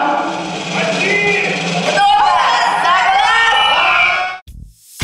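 A crowd at the final of a blogger battle competition roars with cheering, whoops and shouts for the winning team, dense and loud throughout before cutting off sharply near the end.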